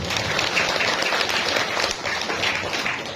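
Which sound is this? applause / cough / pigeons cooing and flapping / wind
applause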